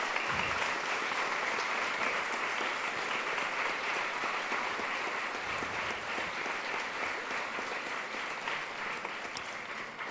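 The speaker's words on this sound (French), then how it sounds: "Je pense qu'on va vous applaudir pour vous." Sustained audience applause fills a hall at the close of a health debate, a dense, steady wash of clapping hands that holds loud for the full stretch and eases only slightly toward the end.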